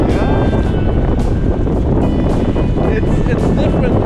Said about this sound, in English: we're greeted with strong winds that create an intense sailing experience